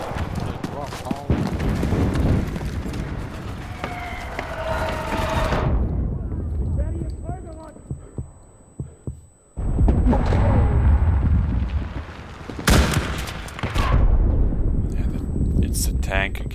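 Tank or anti-tank gun fire in a video game, heavy booming blasts with loud broadband bursts near the start and again around two thirds through, mixed with game noise and people talking throughout.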